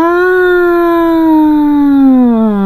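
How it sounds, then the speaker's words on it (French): A single loud, wailing siren-like tone holds steady then slowly slides downward, harmonic and continuous. "on dirait une sirène d'alarme"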